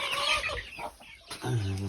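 Chickens cluck nearby in short, busy bursts, with a few throaty calls toward the end.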